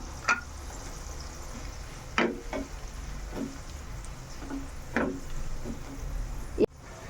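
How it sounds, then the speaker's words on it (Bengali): Garlic and mango pieces fry in oil in a pan, giving a constant close sizzle broken by several sharp scrapes of a stirring spoon. "রসুনটা দেখো একটু ভাজা ভাজা হচ্ছে"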